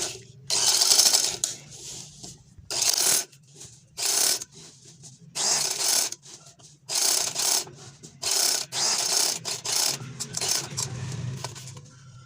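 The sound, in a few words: sewing machine stitching fabric edge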